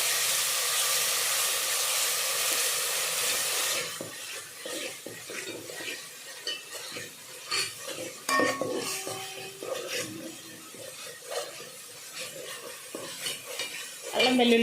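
Curry ingredients with ginger-garlic paste fry in a pan, a loud steady sizzle at first, then giving way to repeated clinks and scrapes of a spoon stirring against the metal, close up.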